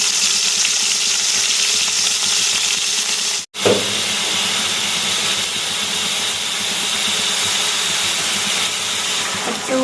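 Onion paste sizzling loudly in hot oil in a wok, a dense continuous hiss close to the pan with a brief dropout partway through, then steady frying again.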